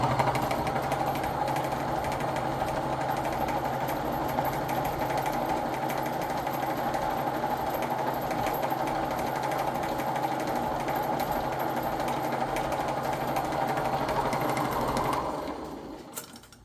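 A low-cost buffing machine with three 6-inch wheels sandwiched together on each end runs steadily with a loud, continuous motor hum and whir, then winds down at the end.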